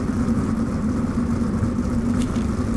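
Open-wheel non-wing race cars at Volusia Speedway Park in iRacing pull away in a steady droning engine rumble with a constant mid-pitched tone, no voices over it.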